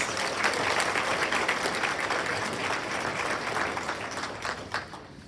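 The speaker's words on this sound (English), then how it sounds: "let's give our sponsors a round of applause" Conference audience at an animal welfare event applauding its sponsors, a full room of steady clapping that holds for several seconds, then thins and tapers off.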